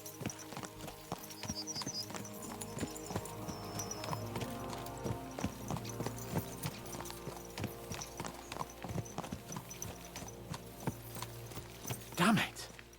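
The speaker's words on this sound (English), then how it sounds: "Let's really spur these horses on, eh?" Horses clip-clop along at a steady trot in Kingdom Come: Deliverance II, hooves thudding continuously under game music with a brief louder burst near the end.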